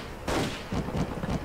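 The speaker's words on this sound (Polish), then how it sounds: "Jak on mnie zabił jednym strzałem" A single sharp gunshot in the Indiana Jones and the Infernal Machine video game, followed by a few softer thuds and rumbles from the game, with no talking.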